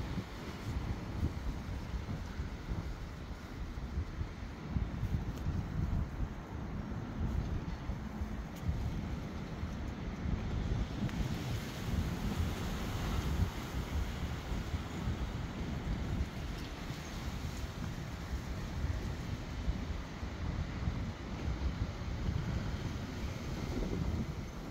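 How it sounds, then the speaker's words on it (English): Strong wind roars steadily on a blustery evening, a dense continuous rush buffeting the microphone, easing slightly at times before picking back up, with no voices. "thought I'd share this lovely windy evening we're having"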